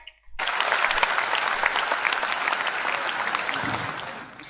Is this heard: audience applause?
yes